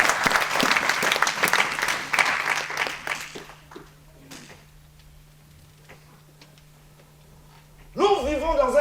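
Church congregation applauding at a French-language worship service, a dense burst of clapping filling the first few seconds and then fading, with a steady low hum and a short loud sound at the end.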